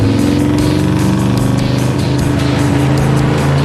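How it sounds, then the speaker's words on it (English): A Camaro at a drag strip revs hard on the line, its loud, steady engine roar holding a constant drone with slight pulsing throughout. "Get some RPM and some smoke out of those tires."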